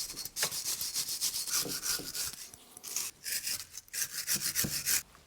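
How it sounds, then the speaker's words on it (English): A brush scrubs loose dirt and rust scale off a BMW E36 188mm limited-slip differential housing in quick rhythmic bursts of close, gritty back-and-forth strokes, with brief pauses between runs. "now would be a good time to just run over it with a brush of some sort to get all the loose sitting dirt and rust scales off"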